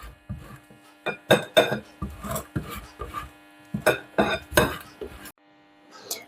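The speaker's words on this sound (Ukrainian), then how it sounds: "беремо маргарин або ж вершкове масло, обвалюю його і натираю на дрібній терці" Cold margarine or butter is rubbed against a fine metal grater in a home kitchen. The rasping strokes come in quick uneven clusters, close and crisp, with short pauses between passes.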